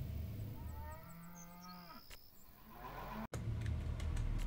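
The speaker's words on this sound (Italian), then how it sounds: "Magnano, magnano ste mucche." Cattle moo in the farming video game Farm Manager 2021, several long low calls close by over a steady background hum of a running engine, with a brief cut near the end.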